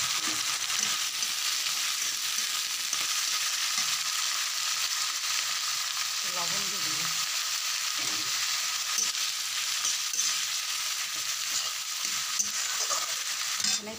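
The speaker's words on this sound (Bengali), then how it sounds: "এই যে তেল দিয়ে দিলাম, এখন হচ্ছে পেঁয়াজ রসুন আর হচ্ছে কাঁচা লঙ্কা দিয়ে দিব।" Onion, garlic and green chili frying in oil in a pan, a steady close hiss of sizzling with light stirring scrapes now and then, running without a break.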